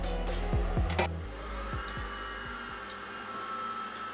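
An electric mixer runs on low speed while egg yolks are added one by one, a steady motor whir with a few brief knocks near the start, then an even hum settling close by.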